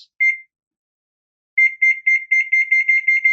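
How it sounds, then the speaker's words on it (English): A kitchen timer beeps, first with a single short chirp and then, after a pause, with a rapid run of sharp, loud electronic beeps in close succession. "And then set the timer for that."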